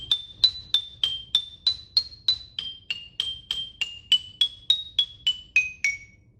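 Xylophone bars struck hard in a steady run of about twenty sharp, ringing notes, each bright attack decaying quickly, loud and close with no talking.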